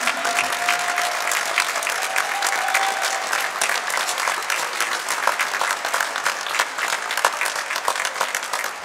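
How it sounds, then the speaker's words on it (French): Sustained audience applause from a concert crowd honoring the sound and lighting technicians at a choral performance, dense steady clapping filling the room for the whole stretch with no voices on top. "Vous pouvez les applaudir, ils font un boulot de taré."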